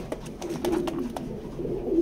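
A large female racing pigeon, handled at a pigeon loft, gives soft cooing murmurs amid quick wing flaps and flutters, close by, with no talking.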